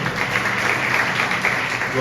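A congregation applauds during a Sunday church service, dense steady clapping that fills the whole stretch, with voices mixed in.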